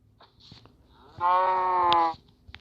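A single drawn-out Minecraft cow moo, about a second long, clear and close against quiet background with a few faint clicks.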